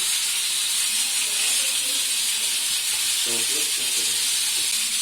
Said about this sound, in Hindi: तो प्याज हल्की आंच पे हो रही है